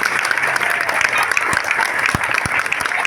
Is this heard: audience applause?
yes